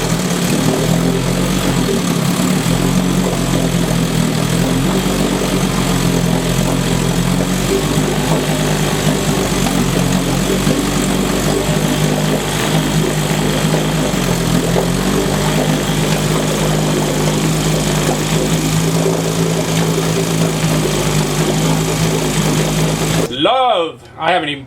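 A Johnson 7.5 hp outboard motor fitted with Nova ignition and a homemade throttle setup runs steadily and loudly with a constant low drone, then cuts off abruptly near the end.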